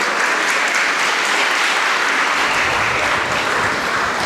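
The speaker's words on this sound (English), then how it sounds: "A big round of applause for them." A hall full of people claps loudly and evenly for a students' choir at a school's first assembly, a dense unbroken wash of applause with no talking over it.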